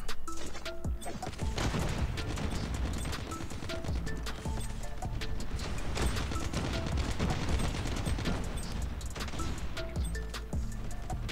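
Sustained, rapid gunfire while fighting zombies in Undead Siege Hard Mode in COD Mobile: dense overlapping bursts of shots with thuds and crashes mixed in, loud and continuous throughout.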